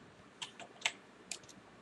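A computer keyboard is typed on, giving a few quiet, sharp key clicks spaced unevenly over under two seconds.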